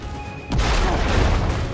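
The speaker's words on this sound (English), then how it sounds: "Explosions?" A sudden loud booming explosion erupts after a quiet moment, followed by a sustained rumbling roar of blasts and debris in Resident Evil 3 Remake.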